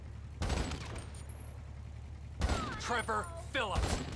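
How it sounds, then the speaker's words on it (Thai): Two bursts of gunfire in a zombie mod of the video game GTA V over a low background hum, the second followed by a person talking. "ทำไมเสียงปืนมันแปลกมันไม่ใช่ปืนพกนี่"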